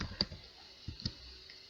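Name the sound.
typing on a computer keyboard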